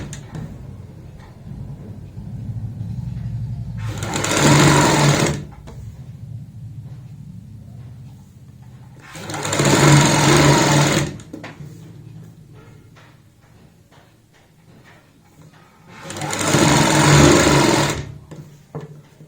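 An electric sewing machine stitches the folded edge of a blouse sleeve in three separate loud bursts of rapid whirring, each lasting a couple of seconds, with quieter handling sounds between runs.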